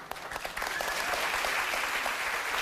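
A studio audience at a live daytime talk show breaks into applause, a dense wash of clapping that swells after a brief opening and holds steady, loud and close, with no talk over it.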